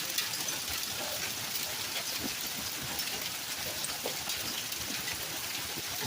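Heavy rainstorm in Colorado in July, a steady dense hiss of rain falling on the ground and surfaces, continuous and fairly close throughout with no talk.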